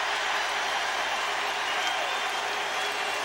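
Stadium crowd at the All-Ireland hurling final cheering and clapping for Kilkenny hurler DJ Carey, a broad, continuous roar of applause with no gaps.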